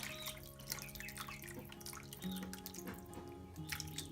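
Soft, faint splashing and dribbling of tortilla soup being poured into a bowl, with small drips and clinks, continuous and close, without speech.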